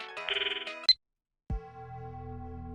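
A cell phone ringtone plays in the video game Steins;Gate, a bright electronic melody that cuts off abruptly, followed after a short silence by a lower sustained synthetic tone.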